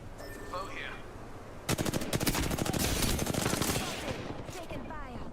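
Rapid automatic gunfire in a video game bursts in suddenly after a quiet start, a loud dense volley of shots that rattles on for a couple of seconds before easing off, with faint voice lines around it.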